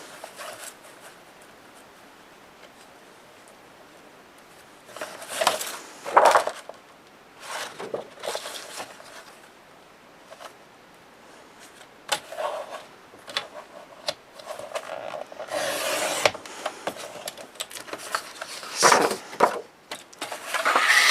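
Paper being cut with a paper trimmer for a scrapbook memory album page, a series of scraping and rasping strokes of varying length, close and moderately loud, with softer handling rustles between them and no talking.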